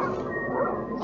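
A dog in the video game Darkwood gives a brief, close bark-like yelp over dense, noisy game ambience.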